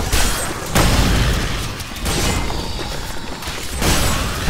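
Heavy booming explosions from the Diablo III video game burst in repeated waves, loud and close, with rumbling tails between hits and no talk over them.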